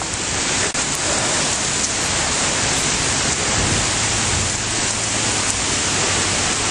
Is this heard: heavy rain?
yes